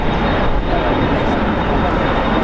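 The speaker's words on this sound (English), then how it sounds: "It is a 10 hour and 55 minute flight on a Boeing 747-4 freighter." A National Airlines Boeing 747-400 freighter arrives at LAX, its engines producing a loud, dense, unbroken roar that dominates the scene from start to finish, with a voice faintly present beneath it.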